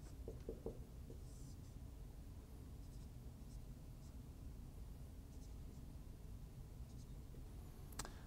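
Pen or chalk writing out an adjacency matrix for a quantum stochastic mechanics lecture makes faint, intermittent scratching strokes and taps over quiet room noise.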